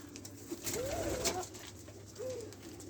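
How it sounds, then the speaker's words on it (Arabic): A male dove coos in courtship display toward a nearby female, with one longer rolling coo early and a shorter coo near the end over steady low background hum. "عشان اوريكم زوفة الدكر بتبقى عامله ازاي"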